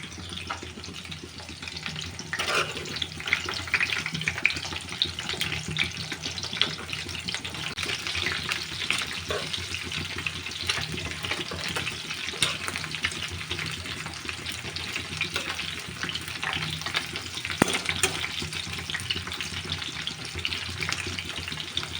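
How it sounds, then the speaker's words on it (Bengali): Cauliflower florets coated in a chicken mixture fry in a pan, giving a dense, constant sizzle that sounds a little like running water. The occasional soft stir can be heard, and nobody speaks. "আর এই চিকেনের বাটির মধ্যে আমি এই যে ফুলকপিগুলো মেখে নিয়েছি, এগুলো এখন আমি ফ্রাই করব।"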